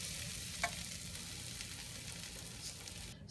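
Banana fry with coconut powder is stirred in a pan, giving a soft, steady sizzle with a brief scraping clink early on, faint and close, with no talking.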